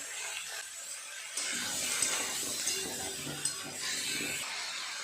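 Vegetables with turmeric, chili, cumin and coriander powder being fried and stirred in a pan, a soft steady sizzle with scraping stir strokes and small clicks, fairly quiet and close, without talk.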